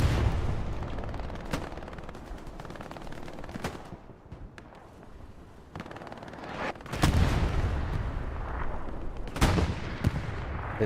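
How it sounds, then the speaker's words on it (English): Anti-tank gun fire in the Hell Let Loose World War II game, with heavy booming shots and machine-gun bursts rolling in and out over a distant battlefield, several loud blasts standing out near the end. "Looks like an AT gun there from Louis"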